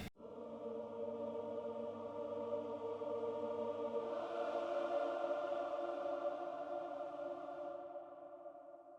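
A Native Instruments audience choir virtual instrument holds a big, bright sustained chord of massed voices that swells around midway and then stays steady. There is no speech.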